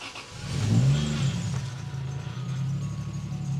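A Toyota Supra turbo engine, just reattached, fires up and revs, a loud low rumble that swells early and then settles into a steady idle, with no talking over it.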